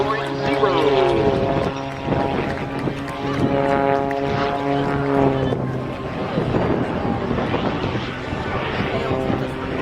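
Aerobatic propeller airplane performing smoke-on pull-ups and knife-edge flight at the 2010 Dayton airshow, engine droning with shifting pitch throughout, loud and continuous beneath an announcer's commentary and wind buffeting.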